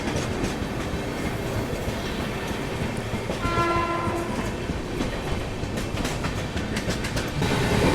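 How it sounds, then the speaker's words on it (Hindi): The Maharashtra Sampark Kranti Express rolls slowly through Vasai Road station without stopping, its steady rumble and wheel clatter running throughout, with a loud horn blast sounding near the middle and no voices. "एकदम धीमी रफ्तार में यहाँ पे वसई रोड स्टेशन को अपनी महाराष्ट्र संपर्क क्रांति एक्सप्रेस स्किप कर रही है।"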